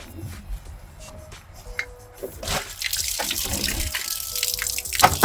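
Water squirts from a broken outdoor tap, starting as faint drips and clinks and then building into a loud, sustained hissing spray close by.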